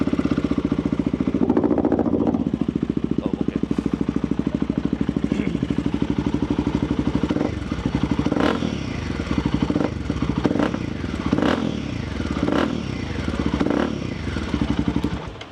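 Royal Enfield Himalayan 450 rally build motorcycle with an aftermarket exhaust runs steadily close by, a deep, continuous engine drone throughout, with several sharp clatters and a few brief revs in the second half.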